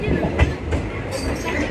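Sapthagiri Express running on rails between Chennai Central and Tirupati near Tiruttani, a steady close rumble of the moving train with faint rhythmic wheel clatter and occasional soft knocks throughout.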